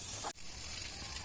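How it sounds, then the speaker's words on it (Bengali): Spices, potato and prawns sizzling in ghee in a pan while being stir-fried, a steady close hiss of frying broken by one brief dip, with no talk. "তো মশলা কষানো হচ্ছে, আলু আর চিংড়ি মাছ দেওয়া হয়েছে।"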